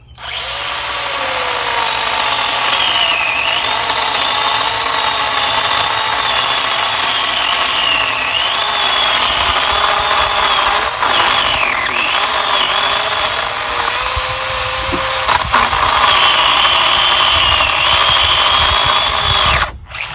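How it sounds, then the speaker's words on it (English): A mini chainsaw cuts into a yew tree, a loud, continuous high-pitched motor whine with slight pitch dips as it bites the wood, steady for about twenty seconds and close up. "These mini chainsaws are so good."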